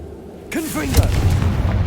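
A Confringo fire spell in Hogwarts Legacy bursts with a sudden booming whoosh, then a fizzling crackle and low rumble, loud and close.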